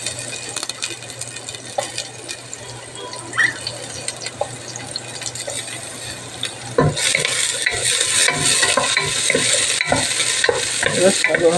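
Sliced onions start frying for a pork sinigang. A quiet stretch with a few light clinks gives way to a louder, steady sizzle as they are stirred, with spatula scrapes against the pan.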